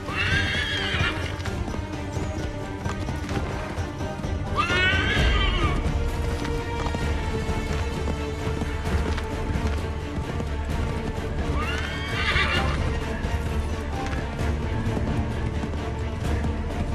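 Horses in the video game Assassin's Creed 3 whinny loudly several times over steady galloping hoofbeats, set against a constant game score and ambient sound.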